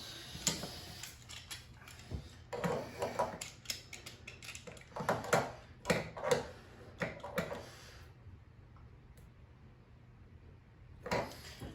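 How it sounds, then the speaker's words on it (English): A metal locking collar nut is threaded by hand onto a leaking Delta sink faucet, close-up irregular clicks, taps and scrapes of metal parts, with a quiet pause near the end. "take your locking collar, little nut, whatever you want to call it. Screw it on, don't cross thread it."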